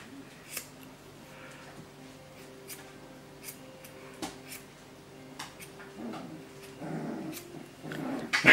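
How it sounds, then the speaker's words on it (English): Puppies play in the background during English Springer Spaniel paw trimming, giving faint yips and scuffles that grow busier toward the end, alongside sharp clicks of scissors snipping fur close by. "You can hear the puppies playing at the back."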